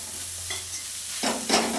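Rice frying in a pan is stirred with a few quick scraping strokes over a steady soft sizzle, close and clear.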